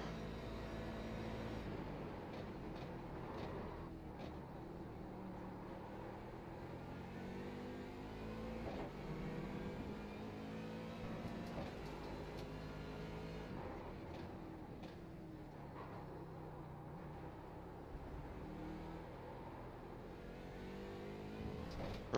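A Corvette C7 race car engine runs steadily through a lap at Daytona in iRacing, holding a continuous mid-pitched drone that rises and falls with shifts and throttle, with no speech.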